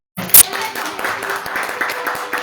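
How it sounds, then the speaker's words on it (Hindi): A church congregation claps during a Christmas sermon, a short, fairly loud burst of many hands with a sharp opening smack, mixed with some voices in the room. "जो तालियां दो।"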